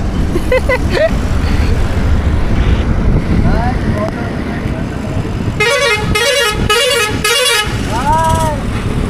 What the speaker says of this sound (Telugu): మన వెనకాల వచ్చిన లారీ అయితే హారన్ల మీద హారన్లు వేస్తున్నాడు